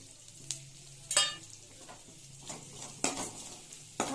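Onions sautéing in a pan for an okra tamarind curry, with a soft sizzle under several sharp scrapes and clinks of a spatula stirring against the pan, close and without talk.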